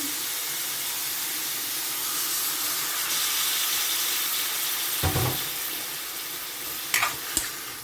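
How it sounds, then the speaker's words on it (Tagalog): Mushrooms hit a hot pan for a creamy mushroom pasta, giving a continuous close sizzle and hiss, with a soft clunk midway and a few sharp clinks near the end. "So, ilagay ko yung pinagbabata ng mushroom."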